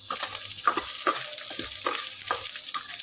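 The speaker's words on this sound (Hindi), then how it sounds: "इसको बहुत जल्दी भुन जाती है, इसलिए चलाते रहना, 2-3 मिनट में ये भुन जाएगी।" Mangodi, small moong dal dumplings, frying in hot oil in a pan while being stirred, with a steady crackle and a rhythmic series of scraping strokes close by.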